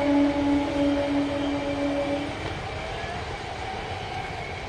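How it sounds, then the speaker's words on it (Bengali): A train passes near mustard fields in a village, giving a steady rumbling roar with a sustained tonal whine that drops away midway, moderately loud and without any voices. "আর এদিকে ট্রেন যাচ্ছে"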